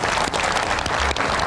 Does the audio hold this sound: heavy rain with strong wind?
no